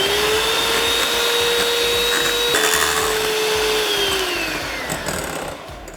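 An electric whisk beats swiss roll sponge mixture with a loud, continuous motor whine that holds steady, then dips in pitch and fades near the end.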